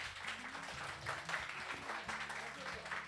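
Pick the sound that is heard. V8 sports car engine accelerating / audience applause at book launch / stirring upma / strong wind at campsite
audience applause at book launch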